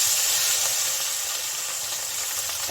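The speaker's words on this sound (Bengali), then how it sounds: "এখন আমি মরলা মাছটা এখানে দিয়ে দিচ্ছি" Small mourola fish dropped into a hot oiled pan for a green gravy chorchori: a steady, bright hissing sizzle that starts strong and eases slightly, close and continuous with no talking.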